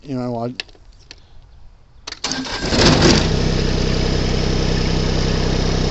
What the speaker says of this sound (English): So we'll start real quick. It might mess the sound up for a second, but it starts up every time you put your brake in.